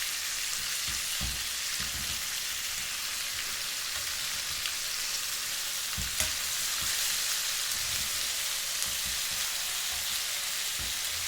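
Chicken drumstick kebabs sizzle steadily in a pan over a medium flame, a continuous close crackle of frying with a few soft knocks as the pieces are turned.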